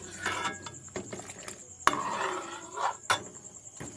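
A custard powder mixture stirred in a pot off the heat, giving irregular close scrapes and metallic clinks of a spoon against the pot, with quiet gaps between strokes.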